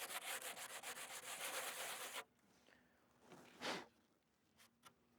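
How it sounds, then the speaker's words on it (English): Sandpaper scuffs a fibreglass repair area in a fast run of rhythmic strokes for about two seconds, followed by a few quieter isolated rubs; close and fairly faint. "we'll be scuffing up the area with sandpaper here. Give it a good scuff up."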